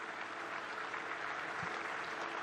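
A morning cricket crowd at the MCG applauds steadily, a broad even wash of clapping from many hands throughout.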